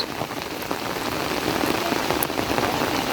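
Heavy monsoon rain pours steadily over a farm with cashew trees and rice fields in Konkan, a dense, even hiss of drops on surfaces with no voices.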